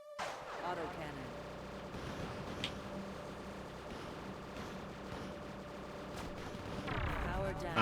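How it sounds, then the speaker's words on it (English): Rapid autocannon fire in the Platypus Reclayed shoot-'em-up game: a steady stream of sharp, repeated shots over a droning engine hum and busy game effects, growing louder near the end. "Autocannon."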